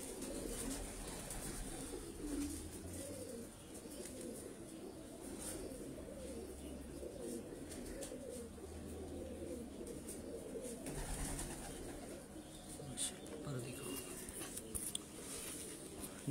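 Pigeons coo softly and steadily in a breeder's loft, a low murmuring chorus of overlapping calls that continues throughout at a quiet, close-up level with faint background rustling.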